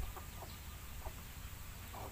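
A large rooster being treated for botulism gives soft, intermittent clucks close by, several short calls spread over a steady low background hum.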